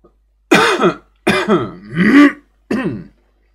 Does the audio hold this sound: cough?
yes